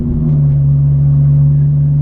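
A Ford Mustang's 4.6 modular V8, fourth-generation platform, runs with a deep, steady exhaust drone and a strong low hum that holds level for two seconds, loud and close, no talk.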